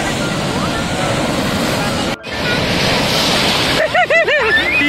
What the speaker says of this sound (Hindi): ये लहर देख, काफी पावरफुल पानी गाइस